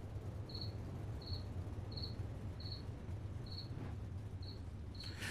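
Crickets chirp at night outdoors near a racing speedway, a faint, steady series of short, evenly spaced chirps over a low background hum.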